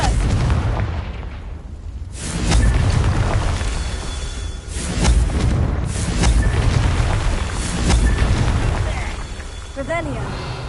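Confringo fire spell blasts in the Hogwarts Legacy video game during a Merlin trial, with several booming bursts through the clip, loud and close, mixed with game ambience and a voice speaking over it.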